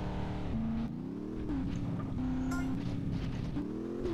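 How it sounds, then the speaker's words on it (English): A game car engine in a GTA San Andreas racing mission drones steadily and loudly, its pitch climbing and dropping repeatedly as it revs and shifts through gears, with no speech over it. "Keep up, fools. I got Catalina's car"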